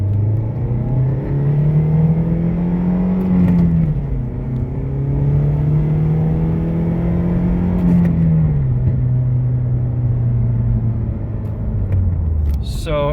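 A 2006 Nissan Sentra SE-R SpecV engine revs loudly and close up, climbing and holding high twice before falling back, with a steady droning tone throughout.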